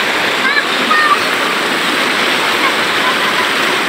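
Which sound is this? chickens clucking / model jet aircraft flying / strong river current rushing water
strong river current rushing water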